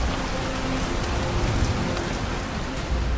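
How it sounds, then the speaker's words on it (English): Heavy rain pours down in a dense, continuous roar of drops, loud and steady from start to finish with no voices. "heavy rain began to pour down"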